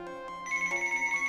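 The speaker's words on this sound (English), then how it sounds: "Phone's ringing." A telephone rings with a repeating electronic ringtone, sustained tonal pulses in a steady rhythm, fairly close and clear with no talking over it.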